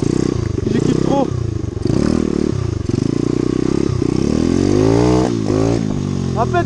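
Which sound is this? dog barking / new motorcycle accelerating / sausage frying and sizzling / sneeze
new motorcycle accelerating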